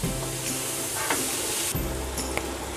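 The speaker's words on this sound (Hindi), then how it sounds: "टमाटर और शिमला मिर्च को सॉफ्ट होने तक पकाएंगे।" Tomatoes and capsicum fry in a pan for a masala egg sandwich, giving a steady close sizzle with a few brief stirring scrapes and a short break partway through.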